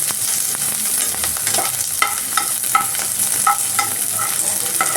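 Onion frying in a pan for Bihari-style baingan bharta, a steady hiss of sizzling oil running throughout with intermittent scrapes and clicks of a spatula stirring, close and fairly loud, no talking.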